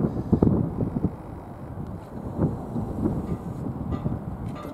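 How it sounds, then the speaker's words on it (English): Gusty wind buffeting the microphone at Belfast harbour during a cruise ship arrival, a low uneven roar rising and falling in strong blasts. "A wee bit breezy, I suppose"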